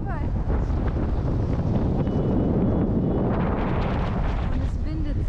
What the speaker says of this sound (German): Und es windet sehr.